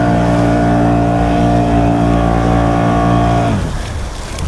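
Mitsubishi Outlander engine revs hard and steadily while stuck in flood water, a loud sustained drone that suddenly drops away near the end into a rough, wet churn.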